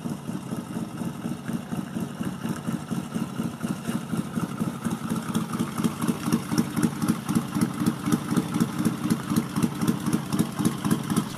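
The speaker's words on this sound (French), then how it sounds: "Donc il y a un bruit de moto." A motorcycle engine idles nearby at a workshop, a steady pulsing throb that grows slightly louder over the last half, with no talking.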